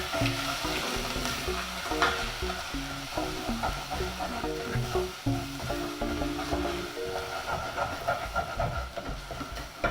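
Coriander powder, turmeric and cayenne chili powder sizzle and fry in a pan as they are stirred, a continuous loud crackle with scraping stir strokes and no talk.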